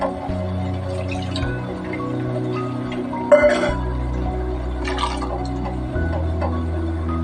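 Water poured into a simmering Kerala-style ground coconut curry in a pot, a soft continuous liquid trickle with faint drips, close and steady, with no talking.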